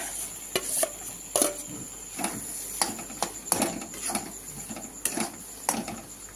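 A spatula stirring taro paste mixed with ground shrimp paste in a frying pan, sharp metallic scrapes and clinks repeating every half second or so over a faint, low sizzle of oil, close up.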